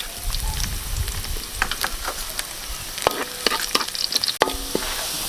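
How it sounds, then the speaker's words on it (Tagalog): Garlic sautéing in a pan for creamy pares, giving a steady close crackling sizzle with scattered sharp spatula scrapes and clicks from stirring, growing busier toward the end. "Pagkatapos po natin palambutin, magigisa na po tayo. Mula po tayo sa ating bawang."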